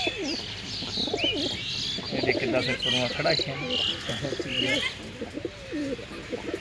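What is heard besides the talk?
pigeons cooing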